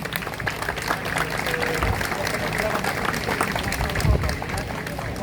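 A crowd at a public gathering applauds supporters, with scattered clapping and crowd noise building steadily throughout, and voices audible amid the applause.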